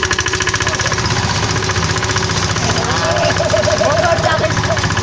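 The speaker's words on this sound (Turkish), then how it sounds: "Motor çalıştı motor." A hazelnut thresher engine runs steadily after a pull start, loud, close and rapidly knocking throughout, with a voice talking over it.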